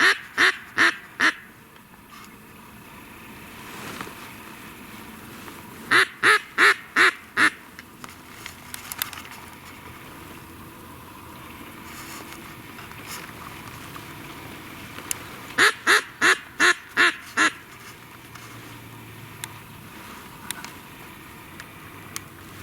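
Mallard ducks circling overhead quack in three separate rapid bursts of loud, clear calls, separated by long stretches of quiet outdoor ambience.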